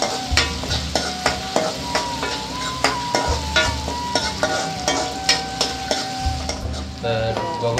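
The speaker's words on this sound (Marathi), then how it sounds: "त्यामध्ये आपण आता घालूया टोमॅटो. टोमॅटो शिजेपर्यंत थोडा परतून घेऊ." Tomatoes sautéing in a hot pan while a spoon stirs them, giving steady sizzling and frying crackle punctuated by regular scraping strokes. Close, fairly loud, with no talking.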